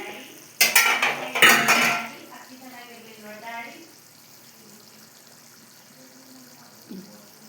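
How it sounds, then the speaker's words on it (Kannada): Metal pot lid lifted with clanks and scraping, then a spoon stirring thick chicken liver gravy in a pan, with soft bubbling and a brief clink near the end; no talk. "ಈಗ ಲಿಡ್ನ ಓಪನ್ ಮಾಡ್ತಿದ್ದೀನಿ."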